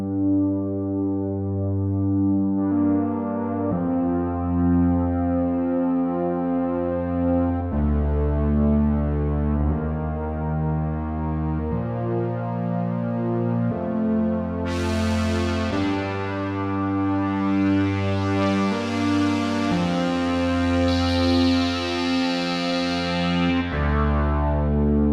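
An IK UNO Synth Pro analog synth pad holds warm, droning chords that shift every few seconds, with a brighter, buzzy layer swelling in partway through. No voices.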